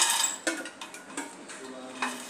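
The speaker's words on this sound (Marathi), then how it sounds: "मखाणे चांगले रोस्ट होईपर्यंत भाजायचे आहे आपल्याला" Fox nuts (makhana) dry-roast in a pan for mewa paak while being stirred, making quiet, intermittent scrapes and light clinks of a spoon against the metal.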